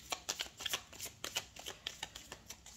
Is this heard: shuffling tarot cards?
yes